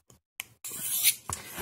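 A knife blade rasps in short strokes across a Sharpal BuddyGuard Model 181N diamond sharpening hone, a couple of brief scrapes followed by a longer sustained slide, close and fairly quiet.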